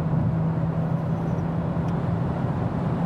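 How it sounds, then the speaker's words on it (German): A combustion engine of a 2019 Mercedes A 250 e plug-in hybrid hums steadily with a constant low drone, heard from inside the moving car along with road noise. "Was man jetzt schön hören kann, ist, dass jetzt auch der Verbrenner angesprungen ist."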